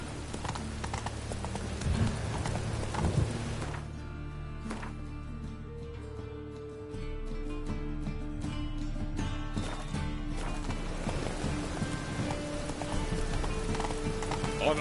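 Roach the horse trotting in The Witcher 3, rhythmic hoof clops repeating close by over background game music and ambience, with a brief snort or whinny.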